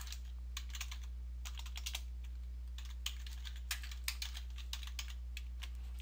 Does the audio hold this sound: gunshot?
no